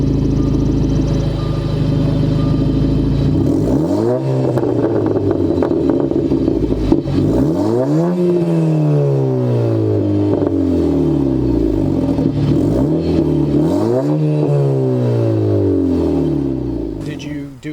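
An Audi A5 fitted with an S5 rear bumper and a custom catback exhaust by Misfit Auto Works revs hard up close, several rising and falling rev sweeps over a steady idle rumble.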